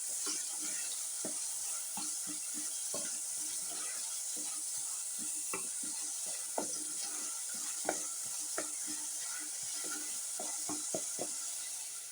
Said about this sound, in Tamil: சில்லி பவுடர், டர்மரிக் பவுடர் எல்லாம் போட்டு வதக்கணும்.